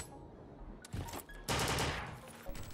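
Gunfire in the Foreign Legion: Multi-Massacre video game: close, loud shots, first a short burst and then a longer rapid volley that fades off, with a few more shots at the end and no talking.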